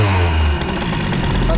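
A scooter with a Doppler high-rev exhaust and a boosted engine revs up and accelerates from a stop at a light, a loud, steady motor drone close by, with a voice talking over it.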